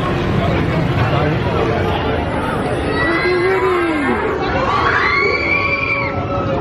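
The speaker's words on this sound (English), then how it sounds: "Wow, someone's screaming." Crowd noise at Toy Story Land at night, with a dense hubbub of chatter, shouting and children's screams. It stays loud and continuous throughout, with higher rising shrieks standing out in the second half.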